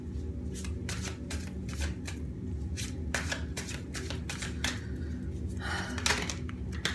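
Tarot cards being shuffled by hand at close range, a run of crisp riffling bursts and flicks in quick irregular rhythm, quiet and without talk.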